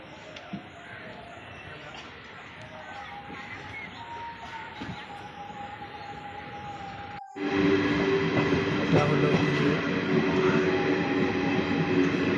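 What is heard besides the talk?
train from Rajasthan to Sealdah running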